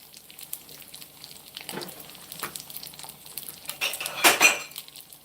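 A cup clatters among dishes in a home kitchen where an iron skillet is in use, light clinks and scrapes of crockery and cutlery rising to a sharper clatter near the end, with no talk.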